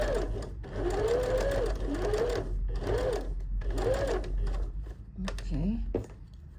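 A sewing machine stitches a garment collar in several short, close runs separated by brief pauses, with a voice talking over much of the stitching.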